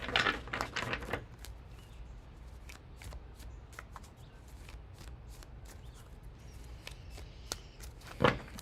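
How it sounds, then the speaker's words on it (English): Tarot cards shuffled by hand, close and fairly quiet: a dense riffle at the start, then scattered light taps and card slaps, with a final short flurry near the end. "Give me 2 more shuffles"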